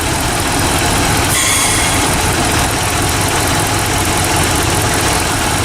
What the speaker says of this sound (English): I don't know if you can hear that over the sound of the wind from the fans, but this is suction.